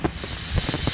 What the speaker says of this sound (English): And we're gonna use the fireworks too.